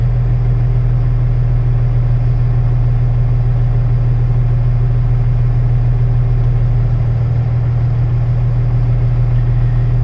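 A diesel truck engine idles during a DEF system regeneration, a loud, steady low rumble with a constant hum that holds unchanged throughout, no voices.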